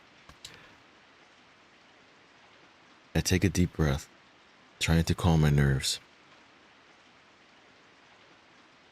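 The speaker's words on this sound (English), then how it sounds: "It was probably the sound of the rain, wind and thunder mixing together" Steady rain from the video game Corpse Party: Book of Shadows hisses faintly in the background throughout, with a voice narrating over it in two bursts.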